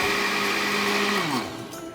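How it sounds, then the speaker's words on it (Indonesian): A kitchen blender whirs steadily and loudly while mixing ice and milk for a milkshake, its motor pitch dropping as it winds down near the end. "sekarang Sobat 7 kita akan blender. Sebentar aja, yang penting es sama susunya kecampur."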